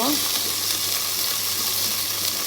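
Vegetables with fried onion, ginger paste and salt sizzle strongly in a hot pan, a continuous close, loud frying hiss with faint stirring movement underneath.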